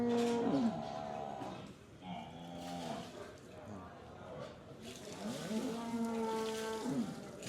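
Deep, drawn-out mooing from a water buffalo at a livestock market in Chichawatni, repeated a few times at moderate distance, with faint background noise between calls.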